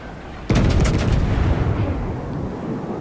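Giulio Cesare Italian battleship main guns firing in World of Warships, a sudden loud booming salvo with rolling rumble and crackle that decays slowly over a few seconds, no talk.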